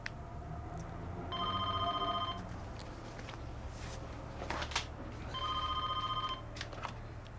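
Telephone rings twice in a room, two long electronic trills about three seconds apart over a low background hum, with faint thuds and movement between the rings and no speech.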